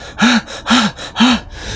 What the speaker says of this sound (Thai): หายใจ หอบ